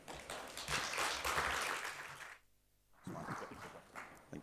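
Conference audience applauding for a speaker, a dense wash of many hands clapping that fades out, a short gap, then a brief return of clapping, heard from within the room with no talk.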